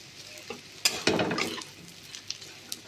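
Olkopi curry sautéing in a pan, a soft sizzle broken by a few scraping stirs of a spatula that bunch together in the middle, fairly quiet with no talking.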